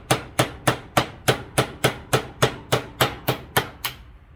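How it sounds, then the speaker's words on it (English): Sledgehammer beating on a Ford tractor ram part: about a dozen loud, ringing metal blows in a steady, even rhythm, close up and alone. "beating on this thing with a sledgehammer."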